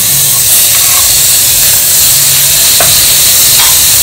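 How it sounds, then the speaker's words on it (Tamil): Chopped onions and a tomato sauté in a hot pan with a loud, continuous sizzle, stirred now and then, with occasional soft scrapes and clinks of a utensil. "வெங்காயம் தக்காளி நல்லா வதங்கிடுது"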